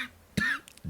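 A single short cough breaks out abruptly in the middle, fairly close and loud, with faint room noise before and after.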